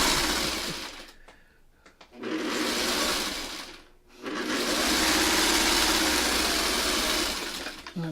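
A sewing machine stitches a quilt seam for an eight-point star block: a short burst of steady whirring, a pause, then a longer continuous run, fairly close and alone.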